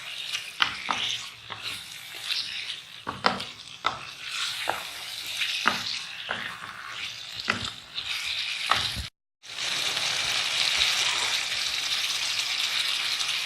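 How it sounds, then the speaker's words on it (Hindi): Chicken and chickpeas fry in a karahi while a spoon stirs them, a loud close sizzle punctuated by clattering scrapes against the metal, briefly cut off before the frying hiss returns, steady and stronger. "अभी हमने इसको 4-5 मिनट अच्छी तरह चनों के साथ चिकन को भूनना है।"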